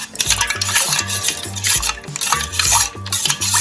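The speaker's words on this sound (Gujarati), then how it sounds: "હવે આપણે જે બરફના મેં ટુકડા લીધેલા છે તે એડ કરીશું અને એકદમ મિક્સ કરી લઈશું" Ice cubes stirred into lemon sharbat in a bowl or glass, a busy rhythmic clatter of ice and spoon against the vessel repeating steadily and close up throughout, with no talking.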